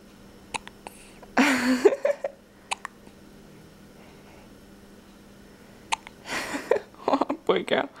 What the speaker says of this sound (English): She always gets the hiccups